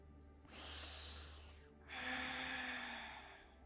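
Two long, deep inhalations through the nose during a yoga lunge in a morning yoga session, close and breathy, separated by a short pause in an otherwise quiet room.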